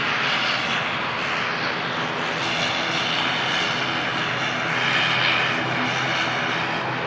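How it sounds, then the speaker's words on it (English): Air Transat Airbus A321neo long range arriving at Manchester Airport from Toronto, a continuous broadband jet engine roar holding steady and loud throughout, swelling slightly near the end, with no voices. "aircraft to arrive. Coming from Toronto. A321neo long range."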